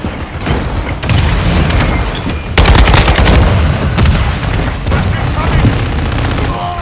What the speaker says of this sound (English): Copy that, mortar strike inbound.